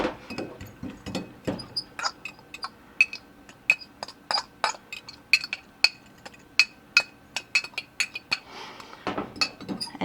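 Hot water is stirred into mashed potatoes, with a spoon giving a long run of sharp, irregular clinks against the bowl, close and distinct over a quiet background.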